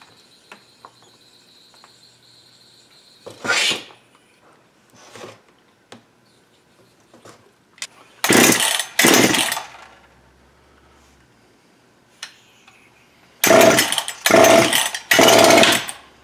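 A Husqvarna 61/266/272XP-series chainsaw, choked and primed through the carburetor, is pulled over, giving a few short, loud bursts of engine noise between quiet stretches with small clicks, without settling into steady running.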